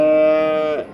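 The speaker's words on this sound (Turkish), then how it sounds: "Ha bu inek abi." A cow at a livestock market gives one sustained, loud, close moo that trails off near the end, with no talk over it.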